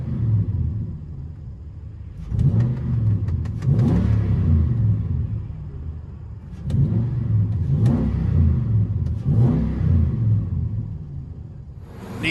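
A Nissan Titan's 5.6-liter V8 with a Banks Monster exhaust system and true duals rumbles at idle between several deep revving bursts, close and fairly loud, no voices over it.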